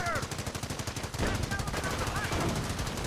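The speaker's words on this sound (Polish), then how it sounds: "Tam mamy działo, więc nas strzela." Rapid gunfire in the Company of Heroes: Tales of Valor war game, a fast regular stream of shots with a short break about a third of the way through, then heavier, denser firing to the end.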